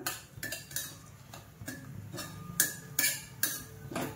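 A metal spoon scrapes and taps repeatedly against a kadhai as semolina roasts in ghee, in short rhythmic strokes that sound close and moderately loud.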